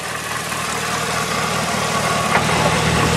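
A 2011 Cadillac CTS-V, a salvage car, idles steadily with a low, even engine rumble and faint hum, close by and unchanging throughout with no speech.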